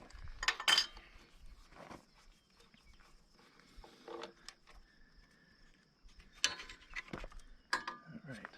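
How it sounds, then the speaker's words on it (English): A wrench works a tight, rusty spark plug on a John Deere B tractor, giving close scattered metallic clicks and scrapes with quiet gaps between efforts. "we'll just use a wrench, give ourselves a little more torque"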